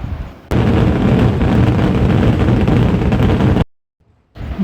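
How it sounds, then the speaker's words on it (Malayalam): Thiruvambadi's fireworks at Thrissur Pooram 2025 go off as a dense, very loud barrage of rapid explosions merging into a continuous roar for about three seconds, then break off abruptly into silence before a faint return. "4 മണിയൊക്കെ ആയപ്പോഴാണ് കേട്ടോ തിരുവമ്പാടിയുടെ വെടിക്കെട്ട് സ്റ്റാർട്ട് ചെയ്തത്"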